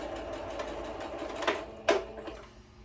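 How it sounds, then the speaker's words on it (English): A Baby Lock sewing machine runs with a steady rapid mechanical whir and stitching patter, close and fairly quiet, with a couple of brief louder clicks near the end and no talk. "I like the Baby Lock. It's just a smoother machine to me."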